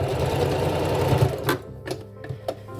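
A sewing machine stitches short forward-and-back seams on a fabric face mask: a loud, rapid whir that runs steadily, then breaks into short stop-start bursts.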